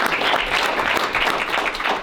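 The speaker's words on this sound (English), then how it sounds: "give them a huge round of applause" A crowd applauds steadily and fairly loudly, a thick wash of overlapping claps lasting the whole stretch without speech.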